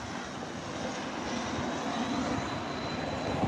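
A fixed-wing airplane passes overhead near a railway line in Stuart, its broadband engine roar steady and moderately loud throughout, slowly building toward the end with no talk over it.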